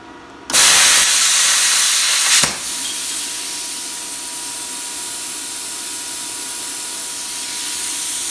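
Bestarc BTC500XP plasma cutter slicing through metal, a sudden loud hiss lasting about two seconds with a sharp cutoff, followed by a steady lower hiss of air running on.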